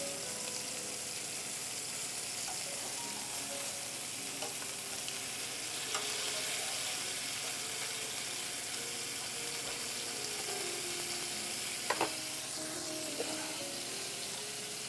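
Scallops searing in a hot frying pan, a steady bright sizzle running throughout with occasional clicks and scrapes as they are turned, no voices.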